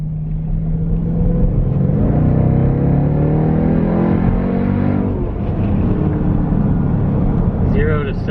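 2018 Jeep Trackhawk accelerating hard, a loud, steady engine roar close by with rising pitch through the run, and voices talking over it.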